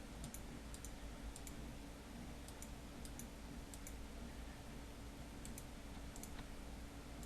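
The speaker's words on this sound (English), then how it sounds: "I'm just using the left and right bracket keys just as always." Faint, sparse keyboard key clicks from the left and right bracket keys, pressed while adjusting brush size in Photoshop Elements, ticking irregularly over a steady background hum.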